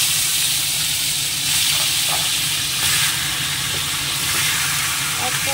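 Fish frying in oil in a pan on a home stove while rice cooks, giving a steady broadband sizzle and hiss throughout with faint clatter of the pan.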